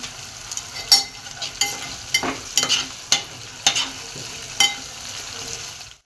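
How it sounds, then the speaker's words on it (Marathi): Bay leaf and red chili pieces hit hot oil in a pan with tomato, giving a steady crackling sizzle broken by sharp pops and stirring scrapes, close and moderately loud, with no talk. "तमालपत्र टाकून घेऊया त्यानंतर हे लाल मिरचीचे तुकडे आहेत हे टाकून देऊ"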